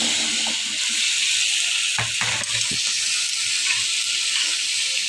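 Cut vegetables, bottle gourd, potato and sweet potato, drop into a hot pan for a fish-head curry, raising a loud, steady sizzle with a few brief stirring clunks partway through and no talking.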